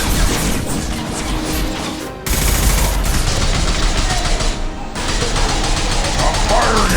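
Heavy sustained gunfire from a firefight in the video game Mass Effect 2, a dense, loud barrage that runs almost continuously with one brief gap early on, sharp bursts and impacts layered over each other.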